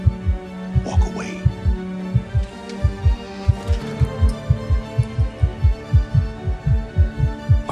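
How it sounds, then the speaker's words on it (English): A fast heartbeat sound effect throbs steadily and quickly in close, deep pulses, with a low hum and faint background sound layered beneath. "Why's your heart beating so fast?"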